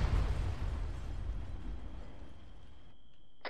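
An explosion in the military video game ARMA 3 brings down a house: a heavy, deep rumble starts loud and slowly dies away over a few seconds, with a faint steady tone lingering and a small thud at the end.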